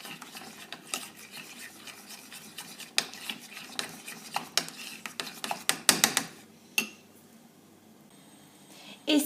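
A spoon stirs a mixture of crème fraîche, salt and pepper in a bowl for crêpe filling, giving a run of close scraping and clinking strokes with a few sharper taps, fairly quiet, no talking.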